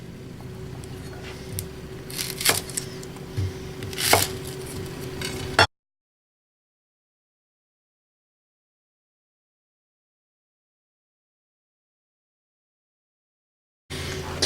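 A knife chopping onion on a board in a home kitchen while making a Dutch oven beef roast, with a few sharp, close cuts over a low background hum, then a long stretch of silence.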